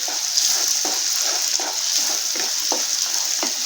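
Curry leaves crackle in hot oil for a potato egg curry, a steady sizzle punctuated by repeated stirring scrapes roughly every half second, close and fairly loud.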